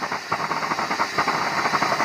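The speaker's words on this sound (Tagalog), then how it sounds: "Pressurize po ang apoy niya." A pressurized single-burner stove with a 3-inch splash-proof head and top-hole nozzle roars with a steady, loud, close hissing flame, unbroken and without talk.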